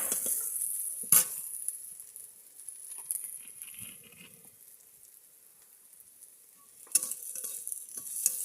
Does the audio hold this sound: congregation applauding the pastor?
no